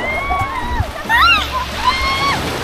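Strong sea waves splash and slosh at a beach resort in Batangas, with broad washing noise under talk, whistles and children's voices close by.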